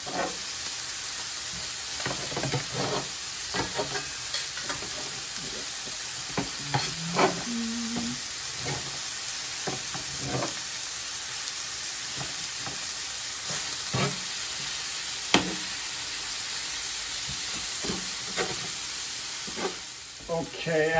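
Chopped steak pieces for Philly cheesesteak sizzle steadily on a hot cooking surface, with frequent scraping and clicking of a utensil stirring and cutting the meat, close and continuous.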